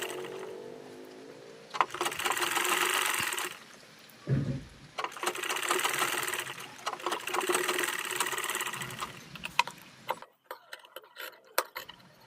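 A sewing machine stitches a katori blouse with a cross-cut matching strip sewn on like piping, running in two sustained bursts of steady rapid whirring with a short pause between them, then stopping near the end.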